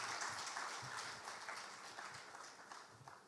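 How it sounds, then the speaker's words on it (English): A big round of applause from the audience at a Ghanaian banking and finance event, honoring the head of banking supervision at the Central Bank; dense, steady clapping fills the room throughout, tapering slightly toward the end. "Shall we do one more big round of applause for him?"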